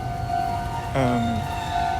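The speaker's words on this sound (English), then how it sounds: "there's the tram coming through." A tram rolls along a street in Sugamo, Tokyo, giving a steady, close tonal hum with a brief rising whine partway through, heard alone with no voices.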